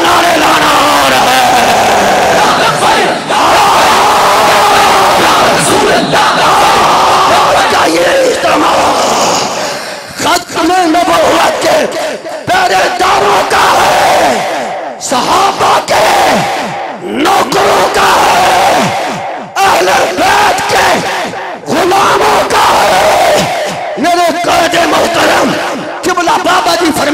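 A large, loud crowd at a religious-political rally in Pakistan shouts slogans in repeated bursts, each surge separated by brief pauses, with voices bellowing together in unison throughout.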